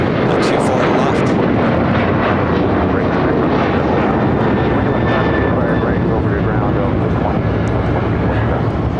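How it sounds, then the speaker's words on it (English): A China Eastern Airlines Boeing 777-300ER jet arrives at LAX from Shanghai, a loud, continuous roar of jet engines filling the air as it passes close, with a person talking over the noise. "China Eastern Airlines, the 777-300ER coming in from Shanghai. Next arrival on 24 left."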